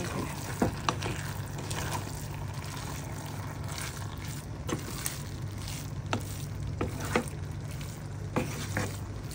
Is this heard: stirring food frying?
yes